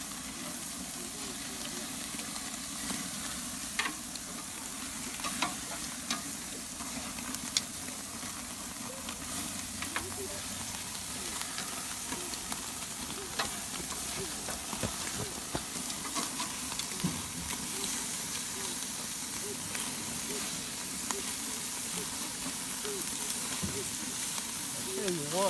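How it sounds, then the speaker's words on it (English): Pork ribs sear on a grill at a campsite, giving a steady broadband sizzle that runs the whole time with scattered small crackles, close and moderately loud, while someone talks over it now and then. "and to sear all that good flavor in the meat"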